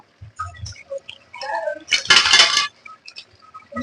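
A metal lid comes off a cooking pot of water just starting to boil, for a Bengali puti fish and dal bori dish, giving a few light clinks and then a brief, close metallic clatter.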